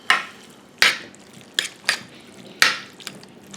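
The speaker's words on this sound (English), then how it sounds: "Stir them up." Drained canned mushrooms are stirred in a hot pan, giving several crisp scraping clacks of a utensil against the pan at irregular intervals over a soft sizzle.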